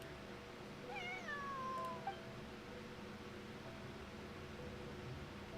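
A cat meows a few times in a video game, one clear wavering call sounding close and up front over a steady background hiss, with no talking.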